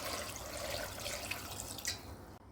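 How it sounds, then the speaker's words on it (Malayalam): Water is poured into a pot of pumpkin curry with coconut oil and spices, making a soft, quiet trickling and splashing close by that ends after a couple of seconds. "പരുവത്തിന് വെള്ളം ചേർക്കാം."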